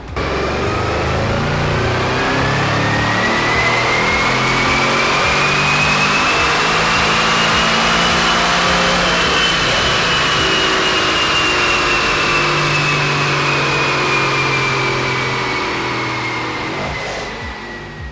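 A Mercedes-AMG GT63 S on stock exhaust runs on a Mustang dyno, its engine climbing in a long, steady, loud pull that holds for most of the run before easing off near the end.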